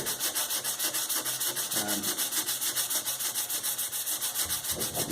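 A brush is worked back and forth over an interior door, producing a close, steady rhythmic rubbing that repeats in even strokes throughout, with no talking.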